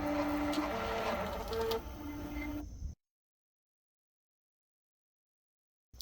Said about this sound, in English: now what I'm going to do is individually print from each one and show what the print speed is like.